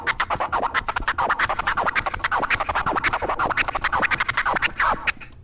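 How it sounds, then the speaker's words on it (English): Fast, rhythmic DJ turntable scratching in a chirp flare combination, dense repeated chirping strokes running continuously and loudly for several seconds before stopping abruptly. "My favorite combination is the chirp flare."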